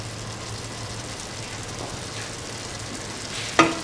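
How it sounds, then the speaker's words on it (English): Carrot pieces fry in a pan with a soft, steady sizzle that holds evenly throughout, ending in a brief sharp clink near the end. "Now put in the carrot pieces."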